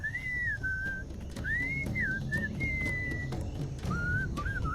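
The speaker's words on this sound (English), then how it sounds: "What is that enchanting whistling sound?" Melodic whistling in the Sam & Max video game, a tune of short and held notes with brief gaps, heard clearly over a low background bed of music or ambience.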